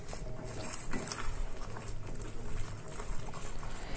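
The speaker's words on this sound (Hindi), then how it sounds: "और मैं गैस का फ्लेम अभी भी सिम पे रखूँगी और उसको अच्छे से फ्राई करूँगी।" Cashew paste gravy for Kashmiri chicken frying in oil over a low flame, a steady close bubbling and spluttering with no voices.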